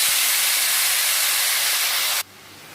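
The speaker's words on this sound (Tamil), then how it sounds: "தக்காளி சேர்த்துட்டு நம்ம ஒரு தடவை வதக்கி விட்டுக்கலாம்" Tomatoes for a Tamil village-style fish curry hit a hot pan and sauté with a loud, steady hiss that cuts off abruptly near the end, leaving a quieter background.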